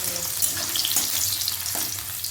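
Potatoes fry in a pan of oil over five-spice seeds, giving a loud, steady close sizzle with faint stirring scrapes and no talking.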